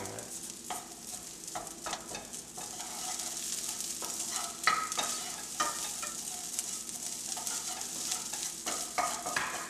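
Meatless ground substitute sizzles in a frying pan while a spoon mashes and breaks it up, producing close scraping and tapping strokes over a continuous crackle of frying.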